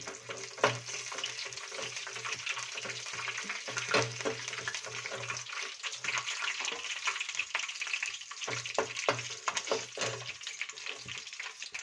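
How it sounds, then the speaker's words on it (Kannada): Cumin and mustard seeds fry in hot oil with curry leaves, a close crackling sizzle broken by frequent scraping stirs, with no voices. "ಜೀರಿಗೆ, ಸಾಸಿವೆ ಹಾಕೊತಿದ್ದೀನಿ. ಇದನ್ನೆಲ್ಲ ಚೆನ್ನಾಗಿ ಹುರ್ಕೊಬೇಕು."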